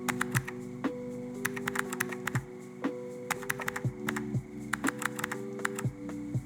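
Keystrokes tapping out in quick, uneven bursts on a keyboard in the CozyTyper typing game, each click sharp and close, with short pauses between runs and no voices.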